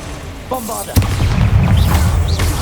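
Bombarda explosion spell going off in the Hogwarts Legacy video game: a sharp boom hits near the one-second mark, then a sustained rumbling roar rolls on under faint whooshing effects.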